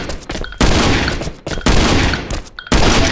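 Shotgun fire in the mobile survival game Last Island of Survival, three loud blasts in quick succession, each with a short sharp onset and a brief noisy tail.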